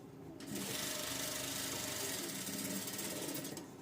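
A sewing machine stitches a princess cut blouse, starting up after a brief pause and running in one fast, steady, buzzing burst at close range for about three seconds before slowing off, with no talking.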